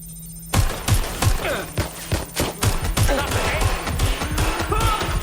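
Gunfire in the video game Watch Dogs: Legion, rapid loud bursts of shots with sharp impacts repeating steadily over a busy mix of game sound effects, with no talking.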